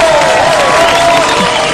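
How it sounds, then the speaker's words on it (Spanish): Brief burst of loud studio audience applause and cheering on an Argentine TV talk show, dense and close with a voice faintly over it. "¡Aplaudan!"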